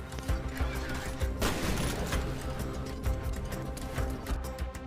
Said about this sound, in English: you definitely feel like they have an impact when you shoot at enemies